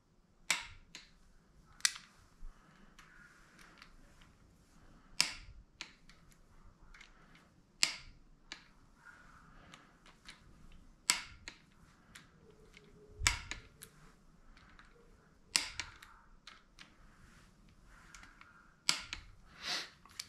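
A torque wrench clicks repeatedly as bolts are tightened to 18 foot-pounds on a 5.3 LS engine accessory drive, sharp isolated clicks spaced a few seconds apart over faint shop background, close and crisp.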